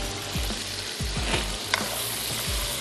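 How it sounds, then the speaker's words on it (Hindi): Steady, loud sizzling of mutton frying in a pan with garlic and ginger for a coconut curry, with occasional low thumps and clinks from stirring. "मैं सिर्फ इसको थोड़ा सा भून लूँगी, लहसुन और अदरक का कच्चापन भी दूर होगा"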